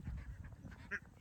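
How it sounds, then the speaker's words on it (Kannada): Ducks quack faintly near water in the Mysuru countryside, with low muffled calls and one sharper honking quack near the end. "ಬಾಟ್ ಬಡಿದೆ ಬಾತುಕೋಳಿ ನೋಡಿ"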